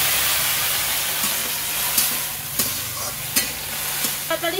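Water lily stems lightly frying with a little salt in a pan: continuous hissing sizzle with several sharp stirring knocks and scrapes, louder clatters toward the end, no talking.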